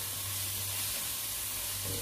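Ground beef fries in a pan, giving a constant close sizzle and hiss throughout with no talk.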